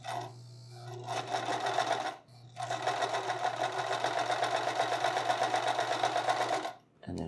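Sewing machine stitching a buttonhole, a steady fast mechanical hum and needle chatter running for several seconds with a brief pause, close and loud with faint speech.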